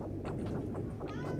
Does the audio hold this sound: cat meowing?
yes